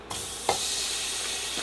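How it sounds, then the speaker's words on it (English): Pre-cooked turkey sausages sizzle in a hot electric skillet, a steady close hiss and crackle running through the whole moment, with a couple of soft bumps near the start. "So I'm going to add my turkey sausages."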